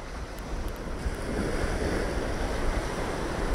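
Ocean waves surge under a strong sea current, a steady broadband wash with wind buffeting the microphone, heard from a boat out at sea during net fishing, continuous and fairly loud with no voices.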